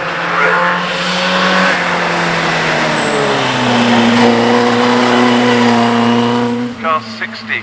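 A vintage OTAB cycle car idles and revs at the start line of the Prescott hillclimb, its engine note rising and falling with a loud, rough, close drone while a commentator talks over it.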